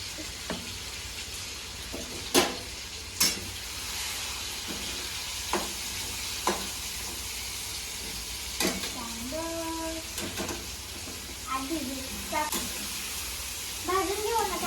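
A Marathi home kitchen where a vegetable dish is being fried in a pan: a steady sizzle runs underneath, with sharp clinks and scrapes of a spoon stirring, while voices talk intermittently over it.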